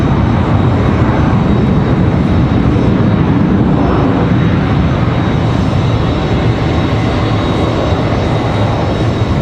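An American Airlines Boeing 737-800 in oneworld livery arrives at Raleigh-Durham International, a loud, sustained broadband jet roar that fills the whole span without letting up.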